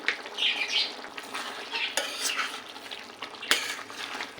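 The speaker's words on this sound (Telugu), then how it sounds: "కర్రీ మంచిగా ఉడుకుతుంది కదండి" Chicken gravy curry bubbling as it cooks in a pot, a close moist simmer with stirring scrapes and a couple of sharp utensil clinks against the pot, no voices.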